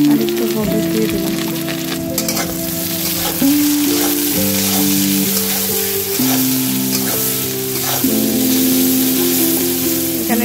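Eggplant frying in oil in a pan with nigella seeds, onion, salt and turmeric for a fish curry: continuous close sizzling with occasional stirring scrapes and a background tonal hum.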